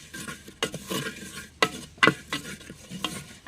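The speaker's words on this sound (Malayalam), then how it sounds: "എല്ലാം കൂടെ ഒന്ന് ഇളക്കി യോജിപ്പിച്ച് പച്ചമണം മാറുന്നത് വരെ ഒന്ന് ഇളക്കി കൊടുക്കും" A vegetable curry with coriander powder, made from homegrown vegetables, being stirred in a pan: close, uneven scrapes and clinks of a spoon against metal over a light sizzle.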